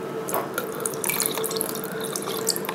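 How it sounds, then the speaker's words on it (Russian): Cloudy rinse water is poured off rinsed liver being prepared as fish food, a steady splashing stream running into a sink with small drips, close and continuous, alone without talk. "Вода мутная, теперь мы ее сливаем."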